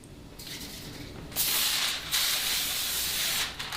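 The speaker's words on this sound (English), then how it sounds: "I'm going to take some spray oil." An aerosol can of cooking spray oil hisses onto foil in two bursts of spray: a short, softer puff, then a longer, louder spray that fades at the end.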